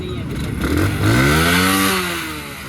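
A motorcycle engine runs and revs up after a new CDI unit and starting coil have been fitted, with a rising, steady mechanical drone that climbs in pitch midway, then eases off.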